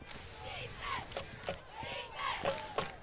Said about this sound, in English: Kingsway crowd trying to spurt on the defense. You hear the defense chants in the background.